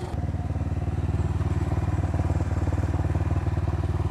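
A Motorstar Cafe Racer 150 motorcycle rides a rough road, its engine pulsing in a steady, rapid drone that stays close and loud throughout, with faint clatter and no talk.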